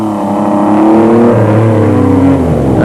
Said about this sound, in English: Hiroshi Matsuoka in the Mitsubishi Challenger.